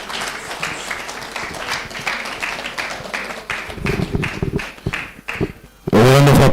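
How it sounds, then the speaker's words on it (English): A conference audience applauds with sustained dense clapping and scattered louder claps, near and loud, joined by murmured voices before an abrupt burst of loud music or tone at the end. "A round of applause for the NDC."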